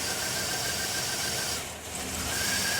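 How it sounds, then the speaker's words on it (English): A 2007 Chevy Tahoe engine runs at a steady idle with a constant hiss and a faint high whine, and it dips briefly in the middle before settling again. "The engine is started."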